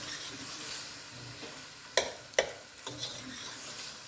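Shrimp being stirred into a hot pan for Guyanese-style shrimp fried rice, a steady low sizzle punctuated by two sharp spatula scrapes and a few softer clinks.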